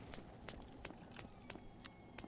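Footsteps in the horror game Horrorfield, a series of soft, evenly spaced steps at moderate distance with faint background ambience and no talking.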